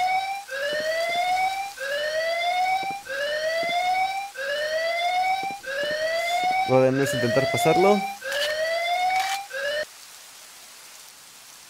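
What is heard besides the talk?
alarm siren in the video game Perfect Dark Zero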